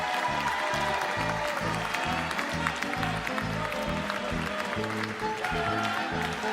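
Warm applause from a forum audience for Team Pavia after they are announced in first place, a steady dense clapping wash with a rhythmic music bed pulsing underneath throughout.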